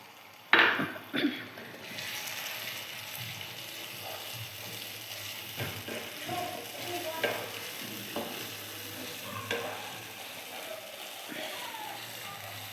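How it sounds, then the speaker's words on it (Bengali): A pan of spiced fish curry base for amudi macher tel jhal is stirred after chili-turmeric water goes in, with a sharp splash at the start, then a steady sizzle and repeated scraping strokes of a spoon close by. "জলটা দিয়ে একটু ভালো করে নাড়াচাড়া করে নিচ্ছি"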